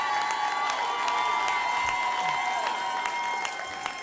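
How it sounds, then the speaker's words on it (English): Crowd applause and cheering fill a large election-night gathering for Gov. Andrew Cuomo, a steady, dense wash of clapping and voices without a break. "Let's give them a round of applause"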